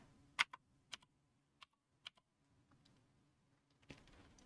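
Keys on a computer keyboard are tapped in a quiet room, a handful of sparse, crisp clicks spread unevenly, followed by a quick cluster of softer keystrokes at the end.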